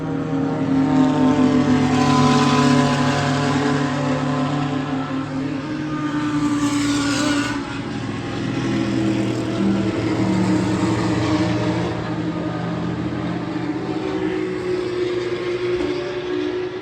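A GT race car engine at Spa-Francorchamps during the 12 Hours of Spa 2023 drones loudly and continuously, its harmonic tone sweeping up and down as the car accelerates and passes, with no speech.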